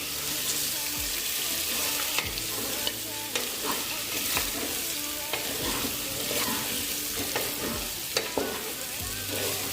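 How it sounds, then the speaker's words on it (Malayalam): Chicken pieces frying and being stirred in a pan for pepper chicken gravy, a loud continuous sizzle with repeated scraping stirs and clanks throughout, close up with no talk. "നേരത്തെ നമ്മളെടുത്ത് വെച്ച് ചിക്കൻ ഇട്ടെടുക്കാം. ഇത് നല്ലോണം ഒന്ന് ഇളക്കി കൊടുക്കാം."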